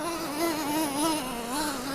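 A Traxxas 2.5 or 3.3 nitro engine on a radio-controlled vehicle buzzes steadily at high revs, its pitch wavering slightly, close and continuous with no voices.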